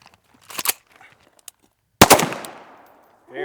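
A rifle fires two sharp shots on a shooting course, the first short and the second a loud blast with a decaying echo, followed by a brief bump near the end.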